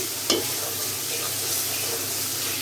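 Spice masala frying steadily in oil in a pan, a thick continuous sizzle and crackle with one brief clatter near the start.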